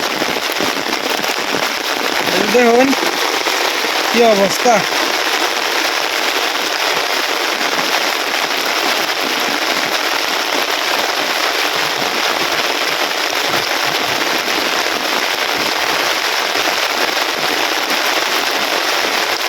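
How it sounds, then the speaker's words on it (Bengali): Heavy rain pours down on a village in a constant loud, dense hiss and roar, with a short spoken remark early on. "প্রচন্ড পরিমাণে বৃষ্টি হইতেছে"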